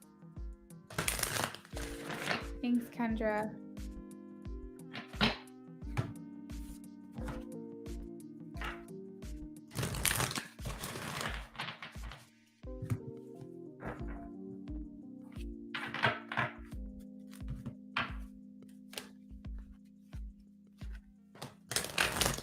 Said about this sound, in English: Let me give it a good shuffle.